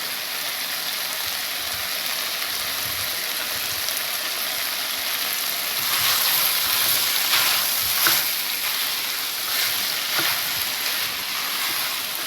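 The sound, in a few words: vegetables sautéing in oil for veg white kurma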